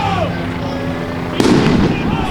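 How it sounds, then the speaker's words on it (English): A single firework blasts at a street protest in Denver, a sudden sharp bang followed by a short burst of crackle, loud and fairly close, over crowd noise and voices. "Oh, there was just a firework right there."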